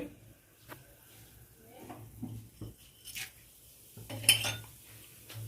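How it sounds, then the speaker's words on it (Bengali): Whole garam masala spices go into a hot kadai for a Bengali fish-head muri ghonto, with scattered metallic clinks and scrapes of a spoon against the pan and a faint sizzle, mostly quiet and close. "গোটা গরম মশলাটা দিয়ে দেবো আগে কড়াইয়ের মধ্যে"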